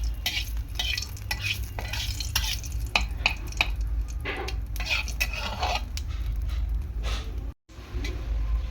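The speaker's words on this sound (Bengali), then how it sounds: "জিরে ফোড়ন দিয়ে এই শুকনো লঙ্কাটা ভালো করে একটু ভেজে নেব" Cumin seeds and dried red chillies fry in oil, a soft steady sizzle under repeated stirring scrapes and light utensil taps against the pan, with one brief silent gap.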